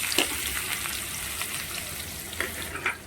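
Meat frying in hot oil in a home kitchen, giving a steady, close crackling sizzle with a few brighter spatters and stirring clicks, with no voices.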